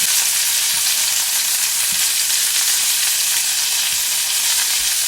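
Pollock fillets fry in a pan, giving a steady, dense sizzle and crackle that holds close and even throughout, with no voices.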